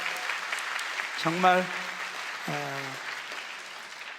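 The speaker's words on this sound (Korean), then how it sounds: "우리 찬양팀을 향해서 큰 박수를 한번 격려합시다" An audience at a Korean church youth conference applauds the worship team, a soft, steady patter of clapping under brief spoken words from a man.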